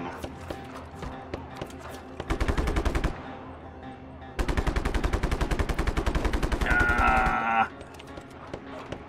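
Automatic weapon fire in the video game Just Cause 3: long rapid bursts of evenly spaced shots, loud and close, with sparser shots and game sounds around them and a short whining tone near the end of a burst.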